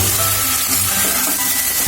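Ginger and garlic paste fries in hot oil with a steady close sizzle, a continuous dense hiss with faint crackling and no voices.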